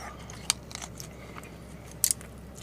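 Someone eating Korean BBQ beef short ribs makes a few sharp bites and crunchy chewing clicks close to the mic, with quiet pauses between.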